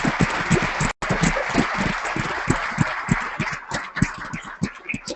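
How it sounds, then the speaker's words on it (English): Applause from an audience at a public meeting in a theatre, steady dense clapping sustained throughout with a brief dropout near the start. "can we just give a round of applause to the CCG team here"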